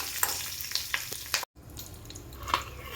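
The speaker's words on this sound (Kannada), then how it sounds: "ಹಸಿಮೆಣ್ಸಿನ್ಕಾಯಿ ಮತ್ತು ಕರ್ಬೇವಿನ ಸೊಪ್ಪು ಜೊತೆಗೆ ಕೊತ್ತಂಬರಿ ಸೊಪ್ಪು ಹಾಕ್ಕೊಂಡು ಫ್ರೈ ಮಾಡ್ಕೊತಾ ಇದ್ದೀನಿ" Green chillies, curry leaves and coriander fry in a pan with a steady close sizzle, broken by a few sharp spatters and spatula scrapes and one very brief dropout in the middle.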